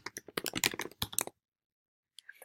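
Rapid clicking keystrokes on a computer keyboard, a quick close burst of typing for about a second, then silence before a few more taps.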